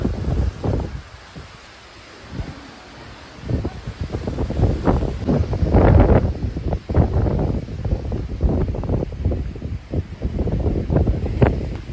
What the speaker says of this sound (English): I apologize in advance for the wind.